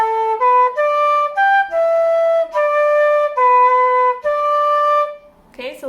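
Solo flute repeats a traditional tune phrase of about eight sustained, clear notes that rise and fall. It sounds close and bright, and a short voice follows at the end.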